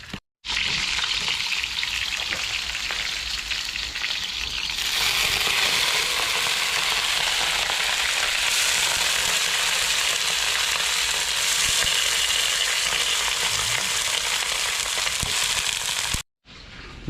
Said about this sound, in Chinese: 把锅一洗，就可以来开始煎鱼了